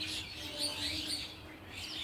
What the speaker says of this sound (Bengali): এই যে পাখিগুলো উড়ে যাচ্ছে আকাশে